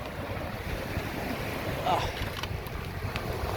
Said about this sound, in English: So I can hear the wind now, so you guys probably have a little more wind in the microphone.